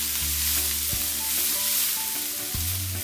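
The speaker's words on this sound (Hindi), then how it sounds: "प्याज को हमें इससे थोड़ा फ्राई करना है" Finely chopped onions fry in hot oil with a loud, continuous hissing sizzle, a low steady hum beneath and a couple of brief clanks of a utensil; close and unbroken, with no talking.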